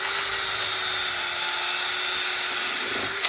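A high-pitched electric drill whines continuously at close range, steady and loud, then cuts off abruptly at the end.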